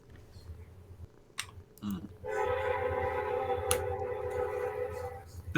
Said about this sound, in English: it's actually just a train